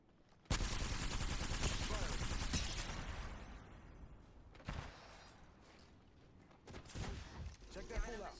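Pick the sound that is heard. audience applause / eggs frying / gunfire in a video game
gunfire in a video game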